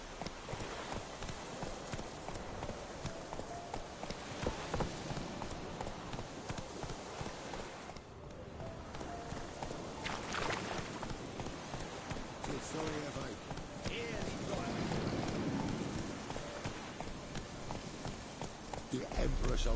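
Roach, the horse in The Witcher 3, gallops at a steady pace, hoofbeats clip-clopping under a busy game soundscape of music and ambience, with a rider's voice talking over the top for much of the stretch.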